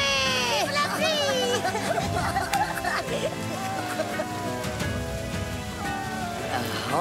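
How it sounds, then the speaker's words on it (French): Rain patters steadily on a surface in an animated Zorro adventure, a soft wash beneath busy voices and a sung melody that carry on throughout. "heureusement qu'il pleut"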